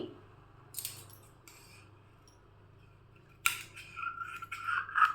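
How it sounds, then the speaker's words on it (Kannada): Scissors cutting fabric in straight lines for a homemade wardrobe organizer: a short snip, then a longer run of crisp, close cutting and rustling cloth near the end, otherwise quiet. "ಇಲ್ಲಿ ಕೆಳಗಡೆನೂ ಅಷ್ಟೇ ಸ್ಟ್ರೈಟಾಗಿ ಕಟ್ ಮಾಡ್ಕೊತೀನಿ"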